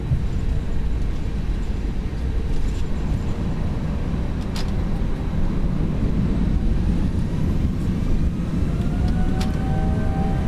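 A Toliss A319 jet rolls down the runway for takeoff in X-Plane 11, its engines giving a steady, loud, broadband roar with rumbling low end that holds constant throughout, with no talking.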